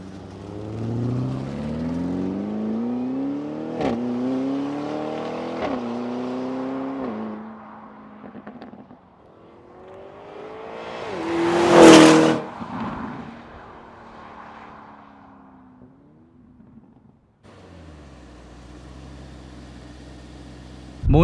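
Lamborghini Urus Mansory engine revving, rising and falling throttle sweeps followed by a loud sharp surge and a brief bark, then the engine settling to a low idle rumble, nearby with no talk.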